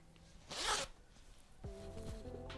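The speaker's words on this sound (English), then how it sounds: "and the zip." Zipper on a handmade crochet makeup bag, pulled in one quick, close rasp and then a second, longer drag with a fine ticking texture.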